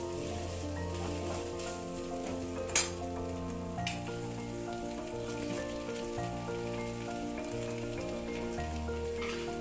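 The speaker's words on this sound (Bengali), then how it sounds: "এই ফুলকপির সঙ্গে সমস্ত মশলা ডাল একসঙ্গে একটু কষাবো আমি।" Cauliflower sautéing in a pan with spices and mung lentils, a steady broadband sizzle with clinks of stirring, over a constant bed of background music, no speech.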